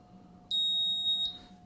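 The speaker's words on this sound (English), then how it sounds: "that's the beep that you will hear" A steady, high-pitched electronic beep from a circuit board sounds alone for under a second, a pure tone with faint overtones, then cuts off cleanly.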